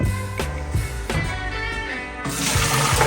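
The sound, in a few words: soaked beans and water poured into a strainer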